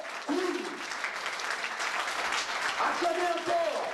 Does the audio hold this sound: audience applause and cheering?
yes